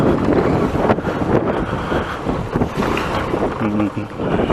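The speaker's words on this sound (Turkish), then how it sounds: "ve rüzgar biraz fazla." Strong wind around 7 o'clock at Eşkel beach, Turkey, roars and buffets the microphone throughout, with a low rumbling gusty noise and a voice speaking briefly beneath it.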